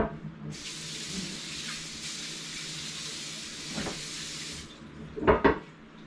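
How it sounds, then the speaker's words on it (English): Steady tap water runs over a cutting board being rinsed in a kitchen sink for several seconds, fairly soft and close, then stops, followed by a couple of quick knocks as the board is handled. "Let me rinse my board."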